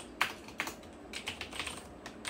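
Keystrokes on a computer keyboard, a handful of sharp, separate clicks at an uneven rhythm, close and clear with no talking.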